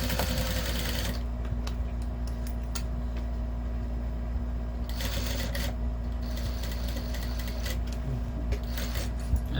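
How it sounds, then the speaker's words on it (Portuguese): A sewing machine runs steadily while stitching around a Kombi-van lunch bag, a continuous close mechanical hum and whir with brief clicks and pauses between bursts, with no talk. "Aí você vai seguindo toda a volta com o pé de máquina."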